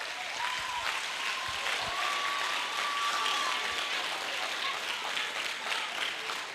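An audience at a student leadership program breaks into sustained, even applause that fills the room for several seconds without pause, with no voices heard over it.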